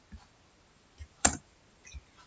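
Computer mouse clicks while working in Microsoft Excel: a few faint, sparse taps with one sharper, louder click near the middle, quiet and close with no talking.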